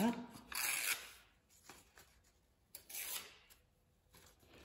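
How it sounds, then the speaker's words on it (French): Paper being torn along its edges, two short bursts of close ripping and crinkling separated by quiet moments, with soft speech faintly under it. "Et pour celui-ci, on va déchirer donc les bords."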